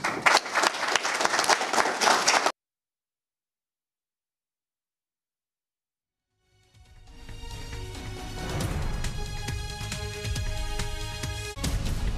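An audience at a road accident investigator training event in the Ashanti Region applauds loudly, then the hall goes silent, then sustained clapping swells and holds with crowd murmur.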